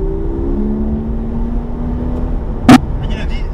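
Porsche GT3 RS 4.0 engine holds a steady, droning note that eases off, with a sharp click near the end and a brief voice following.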